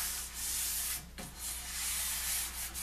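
Steady rough rubbing of sandpaper on wood in repeated strokes, with a brief knock partway through, close and fairly quiet.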